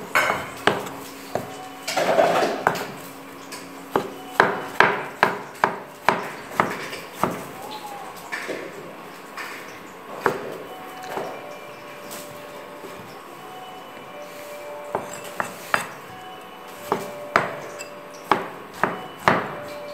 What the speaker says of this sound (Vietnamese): Thái thật nhỏ ra nhé.